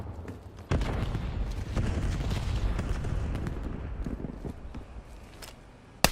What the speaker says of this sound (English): Someone shot at me? Fuck is they shooting at me?